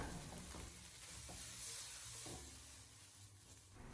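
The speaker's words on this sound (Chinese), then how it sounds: "再将焯过水的鱿鱼也重新的回锅，然后再继续的给它轻轻的翻炒几下" Blanched squid is gently tossed in a hot wok, giving a quiet, even frying hiss with a few soft turning scrapes from the spatula.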